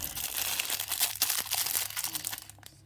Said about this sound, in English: Alright, time for some rustling plastic